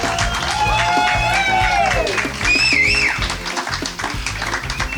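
A concert crowd at Harmony in the Woods applauds a band, with a steady wash of clapping and rising whoops and cheers carrying over it for the whole stretch.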